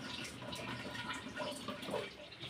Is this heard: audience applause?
no